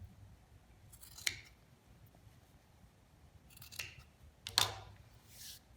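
Scissors trim fabric while a messenger bag is being sewn. A few faint, crisp snips fall irregularly against a quiet room background, close but soft.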